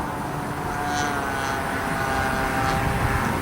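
A 60-size Reactor RC biplane engine at full throttle in flight, a steady, loud, unbroken propeller drone that holds even across the whole stretch.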